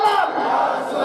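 A large crowd at a religious gathering roars a loud, sustained chant in unison, a dense wall of massed voices rising straight into a shout.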